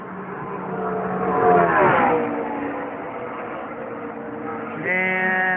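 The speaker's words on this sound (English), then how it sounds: "Here comes Kenseth for his hot lap." A NASCAR race car on a qualifying hot lap in the 2016 Coke Zero 400, its engine roaring as it approaches, passes with a loud pitch-dropping sweep, then fades before a second car's whine rises.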